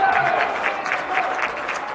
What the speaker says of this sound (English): It is loud in here. It is very vocal.